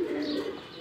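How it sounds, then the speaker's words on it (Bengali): Pet pigeons kept indoors give a brief, soft, low coo at close range, a single short murmuring call. "ভিতরে আমার এখানে 3-4টা কবুতর রাখা।"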